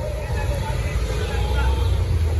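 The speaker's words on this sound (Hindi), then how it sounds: "ट्रैफिक तो देख ही सकते हैं।" Busy street traffic near the old Durga temple and Durga Kund at BHU in Varanasi makes a loud, continuous low engine rumble and road noise close by, with a person talking over it.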